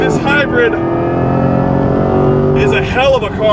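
A 2024 Corvette E-Ray hybrid sports car driving hard on a race track, its engine droning loud and steady with rising and falling revs, a voice speaking over it near the start and end.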